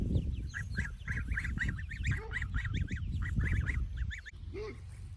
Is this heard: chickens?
yes